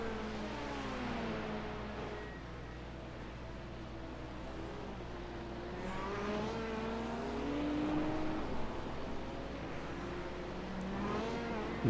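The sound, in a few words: race car engine in IMSA racing video game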